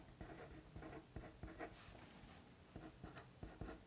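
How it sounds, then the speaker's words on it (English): Pen or pencil writing a short phrase by hand on paper for a Montessori lesson, a series of quiet scratchy strokes and taps in an irregular rhythm, close up with no talking. "So I'm going to write the black"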